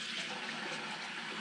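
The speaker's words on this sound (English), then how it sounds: "rinse out with warm water." Warm water running steadily into and swirling around a coffee maker carafe being rinsed out, a continuous close splashing wash with no speech.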